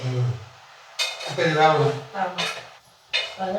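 Metal utensils scrape and clatter against a pan in irregular bursts, close and fairly loud, as leafy greens are stirred and tossed while being sautéed for a South Indian poriyal.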